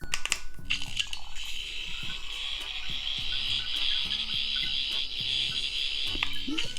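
A sonic screwdriver toy plays its second built-in sound, a stuttering, sputtering electronic buzz like it is running out of power, steady for several seconds with a high whine.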